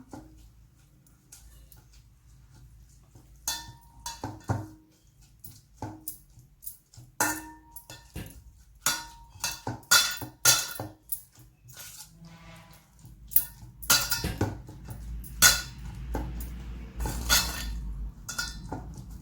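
A spoon mashes food in a metal pot, giving irregular clinks, scrapes and knocks against the pot, close and fairly loud in an otherwise quiet kitchen.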